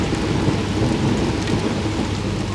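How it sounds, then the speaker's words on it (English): Steady heavy rain with a low rumbling roar of thunder running throughout in Bologna, Italy, loud and continuous, with no voices. "it is thundering"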